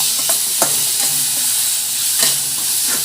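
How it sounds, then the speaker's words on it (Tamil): Onions sizzle while sautéing in a pan, a bright steady hiss punctuated by a few short scraping stir strokes, close and fairly loud with no talking. "2 பெரிய வெங்காயத்தை நல்லா நம்ம வதக்கி விட்டுடலாம்."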